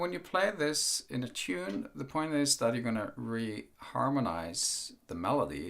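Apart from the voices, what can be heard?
No everyday noises stand out.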